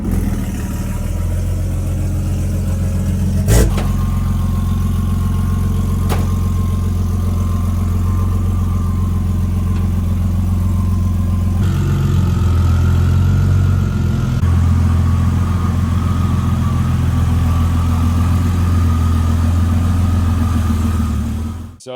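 A 1500 hp BMW M2 race car engine runs loud and close, holding a deep, steady idle with brief shifts in revs along the way and no voices.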